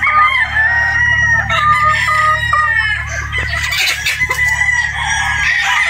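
Several Boston Roundhead gamefowl roosters crow in overlapping calls at close range, with clucking between the crows and no talk.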